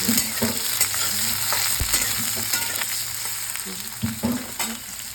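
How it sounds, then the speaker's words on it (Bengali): Potato pieces sizzling in a pan as they are stirred and fried for a banana-flower and chickpea dish, a close, continuous fry with scraping stirs and utensil knocks, no voices. "তো আলুটা দিয়ে এবার একটু নাড়াচাড়া করছি"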